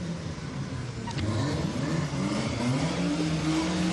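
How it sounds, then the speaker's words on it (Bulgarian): Car engines rev and buzz through the city streets, a mid-pitched motor drone that grows louder and rises partway through, with a faint brief tick early on. "Всякъде коли, бръмчат, запушват всички улици."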